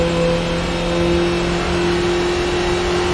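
A Skip Barber race car engine at speed around Road Atlanta, droning steadily and loudly at a constant high pitch with no break, heard alone without talk.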